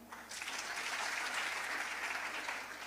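Church congregation clapping together in a sustained burst of applause, dense and steady throughout, with faint voices mixed underneath.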